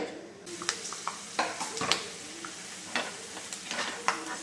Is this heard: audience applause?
no